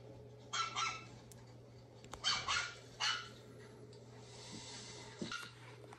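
A puppy gives a handful of short, yappy barks in separate bursts, fairly close and moderately loud, with quiet gaps between them and no speech.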